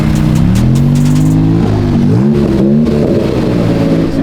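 A McLaren 720S revving as it pulls out of a car meet, a loud, close engine note climbing through its gears with a brief dip between shifts, with no talking over it.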